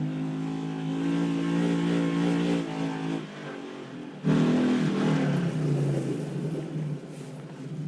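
A four-wheeler ATV engine drones and revs close by while driving, with a harmonic whine that rises and falls, a brief dip in the middle, then a louder surge.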